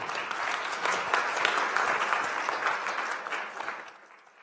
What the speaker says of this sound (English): he deserves an applause too.